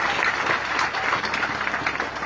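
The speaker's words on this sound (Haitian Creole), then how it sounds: "À force que vous applaudissez" Audience claps steadily at an International Women's Day event, a dense, even wash of applause that holds through the whole short stretch without pause.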